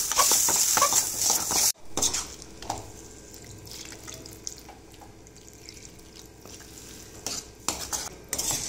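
A utensil stirs rui fish curry with radish, turmeric and salt in a pan after water is added, giving soft scraping and clinking with watery sloshing, fairly close and steady, with no talking.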